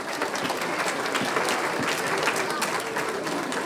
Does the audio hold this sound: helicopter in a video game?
no